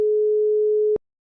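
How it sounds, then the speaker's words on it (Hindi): A single steady electronic phone tone sounds alone for about one second and then cuts off abruptly, as when placing a call. "अभी इसकी माँ को फोन लगाती हूँ।"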